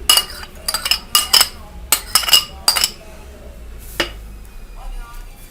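Lemon pickle mixture with vinegar, carrots and peppers being stirred with a spoon in a bowl, a run of sharp close metallic clinks and scrapes in quick bursts, then fading to quiet.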